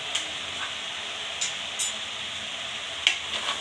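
Mutton fry being stirred in a hot pan, a steady sizzle with occasional scraping clicks of the spoon, close and alone.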